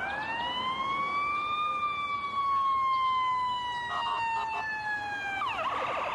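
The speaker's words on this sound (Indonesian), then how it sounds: "Mobil pemadam kebakaran." A toy fire truck siren wails steadily in a rising then slowly falling tone, loud and close, ending in a short burst of clicks.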